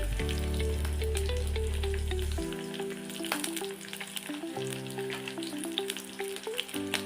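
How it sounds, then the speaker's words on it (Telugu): Garlic, green chillies and onions frying in hot oil, a continuous crackling sizzle under steady tonal music, close and fairly loud throughout with no voices. "ఉల్లిగడ్డలు వేసుకొని బాగా వేయించుకోవాలి"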